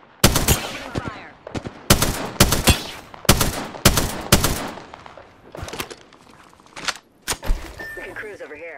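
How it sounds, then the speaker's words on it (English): Rapid automatic gunfire in an aerial combat video game, loud sharp bursts repeating in quick volleys across the whole stretch, with brief gaps between them. "Opening fire."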